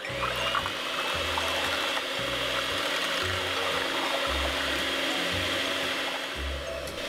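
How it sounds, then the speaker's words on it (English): Eggs are beaten in a bowl for a Christmas mincemeat cake with an electric mixer, giving a steady, close whirring hum with a loose, rattling texture throughout. "we're just going to beat our eggs"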